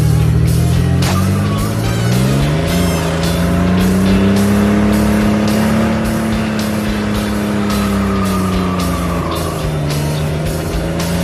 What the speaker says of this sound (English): it actually started doing a burnout